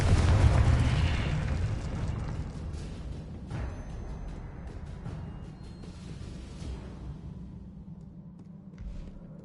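Booming blast from the Confringo explosion spell in the video game Hogwarts Legacy, a loud rumbling burst at the start that fades into a long low rumble.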